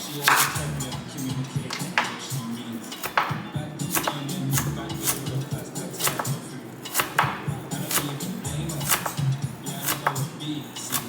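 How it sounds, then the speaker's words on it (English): Knife blade striking a cutting board over and over while an onion is cut up, a steady run of sharp close taps with some uneven pauses. A person is heard faintly in the background. "We're gonna cut up this onion."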